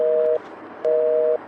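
Phone call disconnect tone: two steady, mid-pitched beeps, each about a third to half a second long with a short gap between them, clear against faint background hiss.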